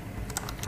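A few quick keystrokes tap on a computer keyboard while a command is entered at a command prompt. The clicks are close and crisp within a short burst, with no talking.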